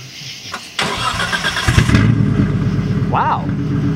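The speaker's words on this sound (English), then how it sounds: "That was a very tame cold start." A Nissan Skyline GT-R with an RB26 engine cold-starts: a short starter crank, then the engine catches and settles into a loud, steady, lumpy idle close by, with a voice briefly heard over it.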